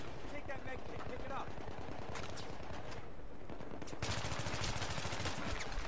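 Rapid automatic gunfire from the video game Battlefield 3 rattles in steady bursts throughout, with sharper, louder volleys toward the end and a busy battle backdrop.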